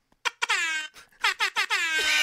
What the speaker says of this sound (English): The Jamaican air horn